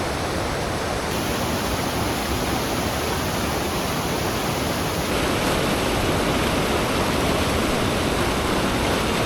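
A mountain creek crossed along the Timberline Trail rushes loudly and steadily nearby, a dense, unbroken roar of water with no voices.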